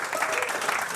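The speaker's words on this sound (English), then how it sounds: "I think we should give him a bit of a clap." Brief clapping from a sailing club audience welcoming a windsurfing presenter, a soft, even patter of many hands over about a second.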